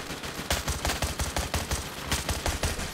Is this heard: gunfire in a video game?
yes